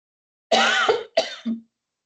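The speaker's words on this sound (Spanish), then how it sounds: "Me dio tos justo en este instante." A close, loud cough in two harsh bursts with a brief gap during a lecture, ending in a short throaty rasp, then silence.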